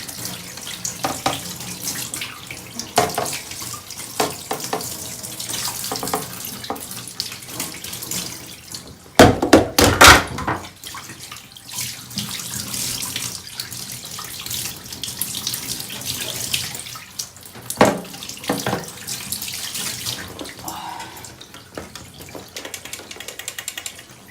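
Tap water runs steadily into a sink while PlayStation 1 parts are washed, a continuous splashing hiss with occasional clunks and handling noises, louder bursts midway, and no talking.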